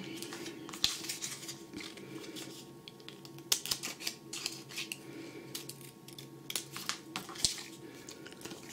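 Scissors snip through a paper sewing pattern in short, scattered crisp cuts and crunches, close and quiet, with paper rustling between them.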